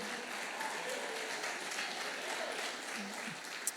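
A church congregation claps continuously in a dense, steady wash of applause that sounds somewhat distant and reverberant.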